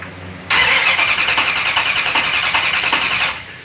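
Starter on a fuel-less 1969 Dodge Charger cranks steadily for about three seconds, a loud, close, rhythmic whirring churn with even pulses that stops abruptly without the engine firing.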